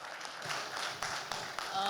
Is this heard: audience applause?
yes